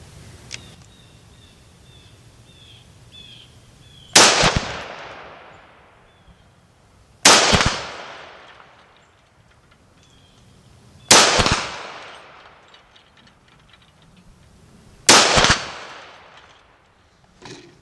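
Four sharp, loud rifle shots from a Springfield Armory Hellion fired at a steel silhouette target outdoors, evenly spaced about three to four seconds apart, each with a long fading echo tail.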